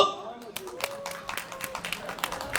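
Scattered, rhythmic audience clapping at an outdoor dance festival for seniors, with a voice talking over it.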